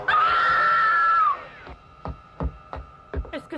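A woman lets out one long, loud, high scream that lasts over a second and breaks off, followed by a series of sharp knocks and thumps in an indoor scene.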